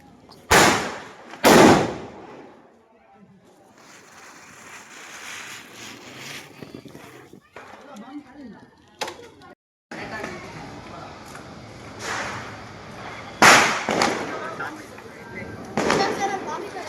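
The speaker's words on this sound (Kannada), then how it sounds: "ಇವಾಗ ಪಟಾಕಿ ಹೊಡಿಯೋಣ ಬನ್ನಿ." Firecrackers burst at a family Diwali celebration at home, several loud sharp bangs spaced across the clip with crackling between them and people talking nearby.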